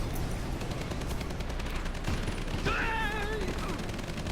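Scatter-shot gunfire in the Red Alert 3 strategy game, a dense rattling burst over continuous battle noise, with a few high whistling tones near the end and faint background voices.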